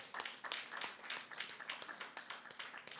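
An audience applauds high school debaters at a debating competition final: faint, steady clapping from a modest crowd, scattered hand claps overlapping for a few seconds.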